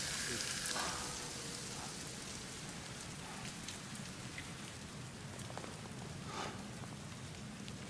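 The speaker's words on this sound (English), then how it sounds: "Is he not getting rain on his face?" Steady rainfall in the Death Stranding video game, a dense hiss of drops pattering on surfaces that continues throughout, with occasional louder splashes.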